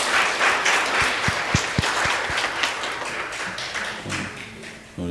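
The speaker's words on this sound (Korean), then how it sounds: "박수로 환영하겠습니다." A church congregation claps in welcome for visiting newcomers at a Sunday service, a dense even patter of hands filling the room, with a few sharper near claps early and the sound thinning toward the end.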